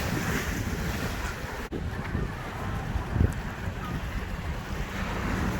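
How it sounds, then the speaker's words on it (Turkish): Surf and wind at Mission Bay beach, with steady broadband wave wash and gusty microphone buffeting throughout and no voices. "Evet, burası da Mission Bay plajı."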